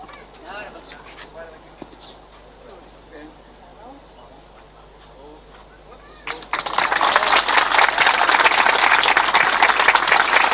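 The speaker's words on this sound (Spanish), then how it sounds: "Un aplauso bien fuerte a todos los presentes" Audience applause erupts at a ribbon-cutting ceremony opening a new Envión youth program space, starting loud and sustained after a stretch of someone speaking over a PA and continuing dense to the end.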